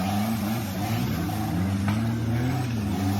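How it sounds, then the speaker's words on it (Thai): Continuous low rumble of an off-road vehicle engine running steadily, close and fairly loud, with a droning hum and no voices. "จังหวะเสียงเครื่องยนต์อาจจะไม่แรงนะครับ"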